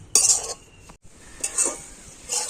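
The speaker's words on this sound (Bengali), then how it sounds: "এইভাবে করে কিন্তু সুসটাকে একটু কড়াতে নাড়াচাড়া করে নিতে হবে" A utensil stirs mustard seeds in a wok while homemade mustard oil is being prepared. It makes a few close, scraping, rattling strokes separated by brief pauses, with no talking.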